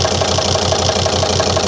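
A Volvo XC90 D5 diesel engine idles with a misfiring cylinder, a loud steady clatter with an even rhythmic knock pulsing several times per second.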